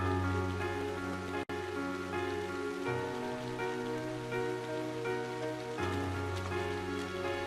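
Steady rain falls across the scene in the video game Trails of Cold Steel, a continuous soft hiss heard over sustained background music with a sharp click near the start.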